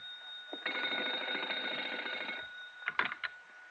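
A telephone bell rings in an old radio drama, a steady, buzzy trill lasting nearly two seconds, then a couple of short, brisk bursts with a clatter after a pause, heard alone at moderate level.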